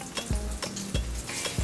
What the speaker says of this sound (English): So let's get to frying.